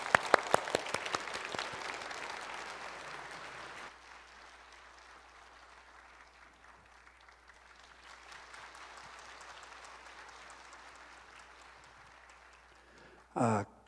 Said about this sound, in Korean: 우리 오늘 강사님으로 오신 조은파 선교사님 박수로 맞겠습니다.